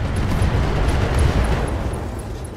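A mech blows up in the video game RogueTech: a loud, sustained rumbling explosion with crackling debris that holds for a couple of seconds before fading slightly, with no speech.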